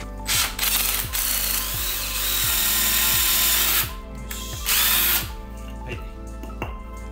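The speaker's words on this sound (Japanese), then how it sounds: "ドリル使うとこんな感じでもう一瞬で角材に穴を開けることができます" An impact driver fitted with a drill bit bores holes through square wooden lumber for a DIY luggage board, giving a steady loud whirring drone with repeated ratcheting clicks, close up and without talk.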